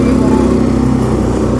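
A scooter engine runs steadily close by on a trip, a continuous low motor hum with a buzzing drone, loud throughout with no clear start-up burst.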